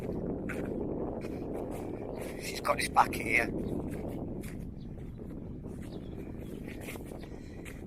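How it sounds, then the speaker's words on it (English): Gusts buffet the microphone with low rumbling noise throughout while a person speaks briefly over it on a Thai paddy field, a few faint chirps poking through. "I don't even know if you can hear me because it's getting windy again"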